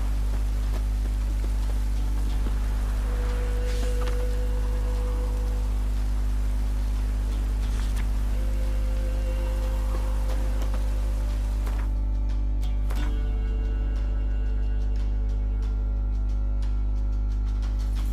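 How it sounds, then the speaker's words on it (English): Heavy, steady rain pouring down in The Witcher 3: Wild Hunt, a dense continuous hiss over a low constant hum with faint scattered clicks and tones. "This downpour's a bastard, it is."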